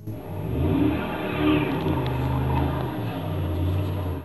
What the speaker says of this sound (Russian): Проснувшись под звуки рева мотора